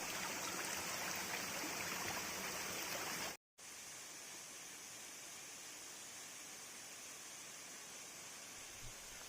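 Steady rushing roar of the Montel waterfall in Kudus, a constant broadband wash of falling water, briefly cut to silence for a moment before resuming at a slightly softer level.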